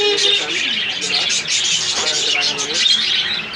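Many small birds chirp and tweet busily at close range at the Mirpur 1 bird market, a constant high-pitched chatter, with a voice and crowd noise underneath.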